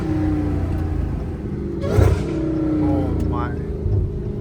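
Dodge Challenger Hellcat Redeye with an 800 hp supercharged V8 holding a loud, steady rumble with a brief rev swell midway, heard from inside the car while a person speaks briefly.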